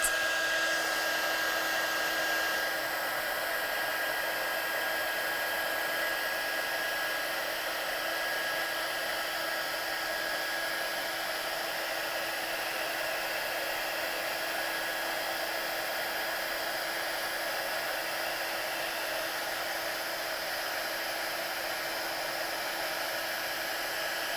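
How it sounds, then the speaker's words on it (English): A heat gun blows continuously for heat-setting stamped ink on paper, giving a steady airy whoosh with a faint high whine that holds evenly throughout, with no talking. "So I'm just going to heat set this one quickly. Get your gun hot."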